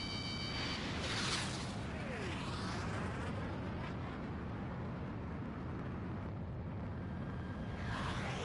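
Missile launch and explosion in a PS4 video game, a broad roaring rumble with a sustained blast and whooshing sweep, loud and continuous throughout.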